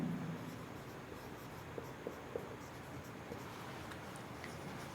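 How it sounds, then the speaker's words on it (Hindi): A pen writing a maths question by hand, a faint steady scratching on paper beneath a constant hiss of room noise, with a few small taps and no speech. "एक छोटा सा क्वेश्चन लिखता हूँ मैं"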